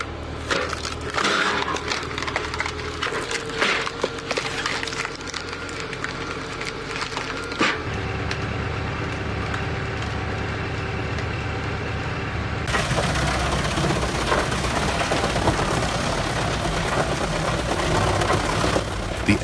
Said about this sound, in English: wood splitter driven by a tractor offers an efficient solution for heavy-duty wood processing